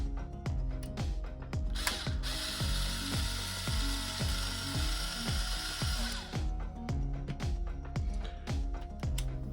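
A ratchet tool clicks in rapid, regular bursts while driving out long screws from a Stobart Rail low loader model, with a steady hissing noise rising in the middle section; the ratcheting is close and continuous.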